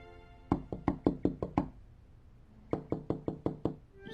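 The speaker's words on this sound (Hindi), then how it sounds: "ये दरवाजे की जगह खिड़की कौन खटखटा रहा है?" Knuckles rapping on a window, a close, crisp burst of about seven quick knocks, a pause of roughly a second, then a second burst of about six knocks, with no voices.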